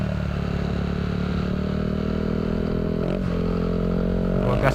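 A motorcycle fitted with a Villain SR1 aftermarket exhaust is held at open throttle, producing a steady, loud, close-up engine roar. The pitch climbs slightly near the end.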